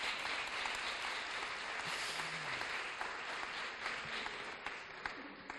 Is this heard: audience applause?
yes